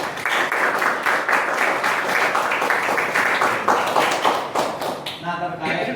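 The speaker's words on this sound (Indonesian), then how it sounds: "Bisa berikan tepuk tangan dulu." Elementary classroom applause for the first group during a micro-teaching session: steady, dense clapping from many hands at close range for about five seconds, then fading out as voices take over.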